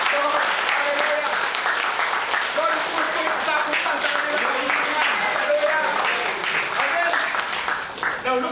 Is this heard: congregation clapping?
yes